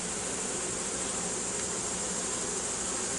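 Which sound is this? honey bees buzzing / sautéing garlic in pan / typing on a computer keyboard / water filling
honey bees buzzing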